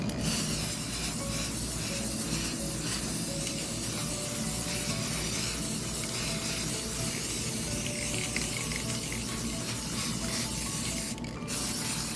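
An aerosol can of mirror-effect spray paint hisses continuously at close range, a steady broad spray with a brief pause near the end.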